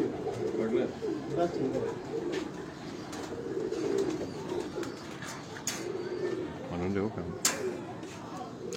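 Pigeons coo in crowded rooftop lofts in Lahore, a steady low murmur of overlapping calls from many birds, with someone talking briefly over them.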